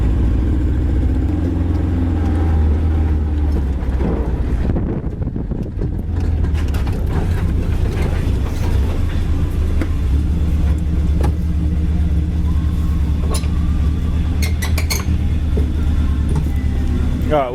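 A Suzuki 4x4 engine runs rough nearby, a loud uneven low rumble with irregular pops as it backfires through the intake snorkel.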